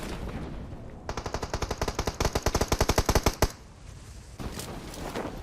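Automatic gunfire in the mobile battle-royale game PUBG Mobile, a rapid burst of loud, evenly spaced shots lasting a couple of seconds, followed by a brief lull and a softer rumble.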